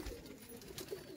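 A pigeon, a desi flying breed, coos softly in the background of a faint, steady outdoor scene with no talk.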